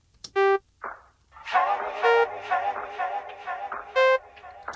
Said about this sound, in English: so after some modification of this house organ sound,